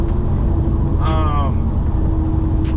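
On a back-road drive, a car's cabin fills with a steady low engine and road rumble. A brief higher tonal sweep rises over it midway.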